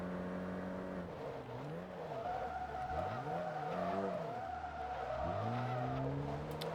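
A rally car in a racing video game slides through a botched handbrake turn, its engine note swooping up and down in revs over a continuous tire skid, loud and close with no talking.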